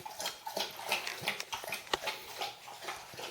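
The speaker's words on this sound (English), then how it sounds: "The sound you hear are my dogs hydrating." Dogs lapping water from a bowl nearby, a quick run of wet, irregular licking splashes with soft ticks between them, fairly close and with no voices.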